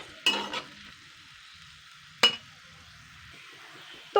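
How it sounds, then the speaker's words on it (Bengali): Onions deep-fry in oil on high heat with a faint, steady sizzle. Three sharp scraping stirs of a spoon against the pan cut through it, near the start, the middle and the end. "তো দেখুন পেঁয়াজগুলো কিন্তু সুন্দর করে ফ্রাই করে নিয়েছি"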